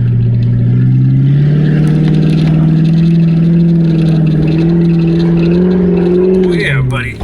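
Car engine revving hard as it climbs a muddy hill, a loud steady low drone with a slight pitch rise, then easing off near the end.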